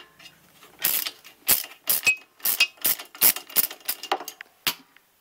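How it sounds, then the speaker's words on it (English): Metal clicks and ratcheting taps from a wrench working the rear brake nut on a Kawasaki Ninja rear wheel, about a dozen sharp close bursts in an uneven rhythm with short pauses between them. "what you have to do is loosen this bolt,"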